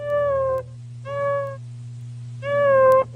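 A human voice imitates a tabby cat meowing, giving three drawn-out, tonal meows separated by short pauses over a steady low hum.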